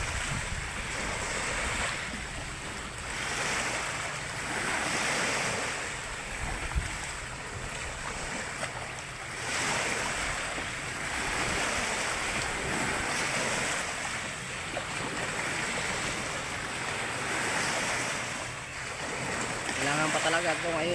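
Ocean waves wash steadily around a seaweed farm, a continuous surging roar with gentle swells and wind noise throughout.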